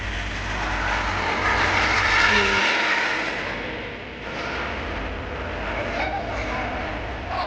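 A 1/6 scale radio-controlled F/A-18 Hornet model jet turbine engine gives a steady high-pitched whine with a broad roar, sustained throughout at fairly loud level, slightly dipping midway before holding steady again, at an airshow.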